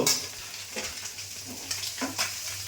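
Fish frying in a pan as the pieces are turned over, a continuous sizzle with scraping and stirring strokes at intervals, close and moderately loud, no speech.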